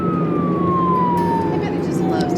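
A harbor patrol boat siren wails on the water near Boston's harbor, a single descending tone that sweeps steadily downward under a steady broadband rumble of engine and wind.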